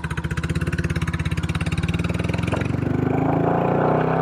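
A Royal Enfield California custom motorcycle engine runs close by with a steady pulsing thump that grows slightly fuller and louder toward the end, with no one talking over it.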